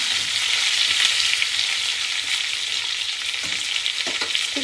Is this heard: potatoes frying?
yes